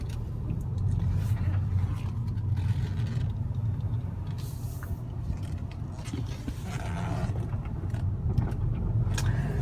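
A 2013 Volkswagen Eos engine rumbles steadily throughout, a continuous low drone of a vehicle underway with faint mechanical noises on top; no clear rise in pitch.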